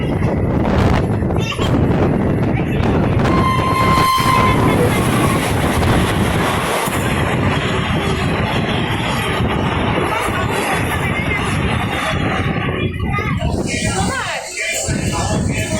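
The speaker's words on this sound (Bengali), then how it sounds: "এখন আছি ট্রেনে, লোকাল ট্রেনে চুচুড়ার দিকে যাচ্ছে আমার ট্রেনটা।" Loud, continuous rumble and rattle from inside a moving local commuter train in West Bengal, with rhythmic wheel clatter and a brief tonal whine, all sustained and close throughout.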